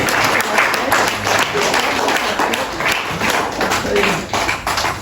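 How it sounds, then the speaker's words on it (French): A church congregation at a Sunday service applauds and cheers for Jesus, steady dense clapping from many hands with crowd noise throughout, fairly loud and continuous. "Est-ce qu'on peut acclamer pour ce Jésus?"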